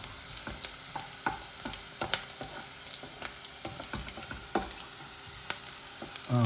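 Onions frying in a pan for ginger chicken, a close crackling sizzle broken by frequent scraping and tapping of a spatula stirring them, without any speech.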